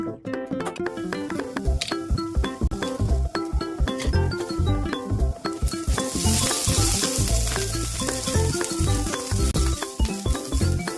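Onion, garlic, green chillies, dry coconut and sesame dry-roast in a pan for a masala paste, giving a steady close sizzle with scraping stirs throughout, over a bed of background music.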